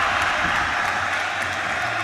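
Basketball crowd at a junior league game in the Philippines, cheering and applauding in a steady, dense roar that holds for about two seconds with no clear break.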